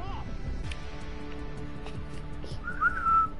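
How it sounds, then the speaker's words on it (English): A person whistles a brief, thin rising-and-falling tune near the end, preceded by a short chirp at the start, with people talking underneath throughout. "You whistle and it's annoying."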